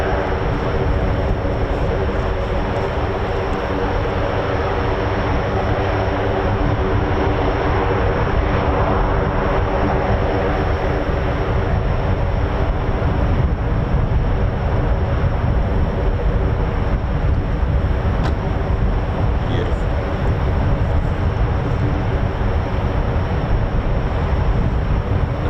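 A military aircraft departing RAF Mildenhall gives off a loud, steady engine roar with a broad, dense rumble and a faint tonal whine that holds for the whole stretch.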